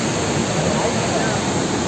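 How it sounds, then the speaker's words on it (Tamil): Fast floodwater rushing loudly during heavy rain in Tirupati, a steady broadband roar with no break across the whole stretch, close and dominant. "தண்ணியுடைய ஆக்ரோஷம் பாருங்க எவ்வளோ வேகமாக போயிருக்குது"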